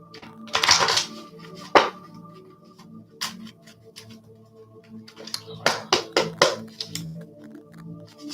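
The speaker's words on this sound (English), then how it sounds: "Let me shuffle one more time." Tarot cards shuffled by hand during a spirit reading, giving a run of soft crisp riffles and light taps, with quiet gaps between bursts and a faint room hum underneath.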